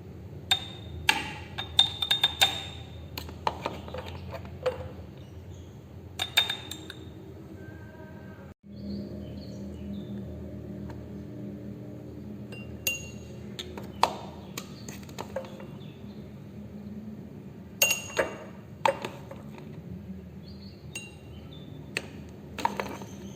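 Sharp clinks and taps of a spoon against a glass jar while garlic paste is spooned in, scattered irregularly over a low, steady background hum.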